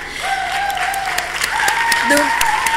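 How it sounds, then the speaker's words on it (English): Audience applause at a closing ceremony in Vigyan Bhawan's hall, a steady wash of clapping beneath a tonal hum and a voice speaking over it. "Please keep the applause going"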